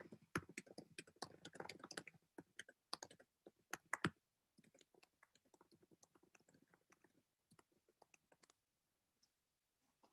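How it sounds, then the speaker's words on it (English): Typing on a computer keyboard heard close up: a dense burst of rapid clicking keystrokes, then sparser, quieter taps that trail off toward the end, with no speech. "Typing."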